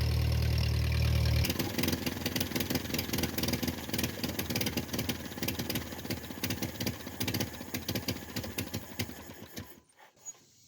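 A 1949 Ford 8N tractor engine idles with a steady, uneven chugging rumble, loud and close, running continuously before cutting off near the end.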